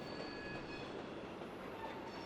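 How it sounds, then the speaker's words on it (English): A freight train rolls past on the rails with a steady rumble and faint metallic squeals, heard quietly from a distance. "It wasn't long after that the end of the train came into view."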